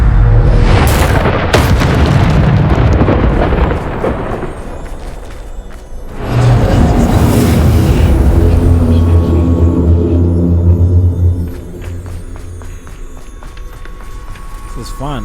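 A Depulso force spell blasting during combat in the Hogwarts Legacy video game: loud, heavy booming bursts with a sharp onset and rumbling low tail, repeated amid game action and footsteps.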